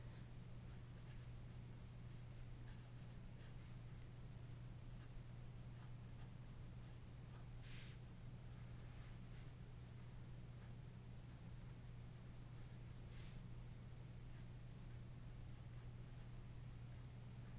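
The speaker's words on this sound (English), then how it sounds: "if I write out the values for the 2 terms I have left" Pen writing out equation values by hand on paper, a steady run of soft scratching strokes with brief louder taps, close and quiet over a low constant hum, no talk.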